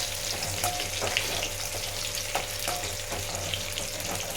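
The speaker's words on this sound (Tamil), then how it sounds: "பூண்டை நன்றாக வணக்கவும்." Garlic sautéing in a pan gives a steady, dense sizzle close by, with faint occasional taps of a stirring spoon and no voices.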